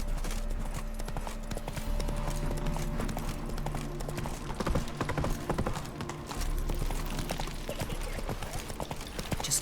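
Roach the horse's hooves clatter in a steady, close gallop in The Witcher 3, loud and continuous with an occasional whinny and a voice calling out over the hoofbeats.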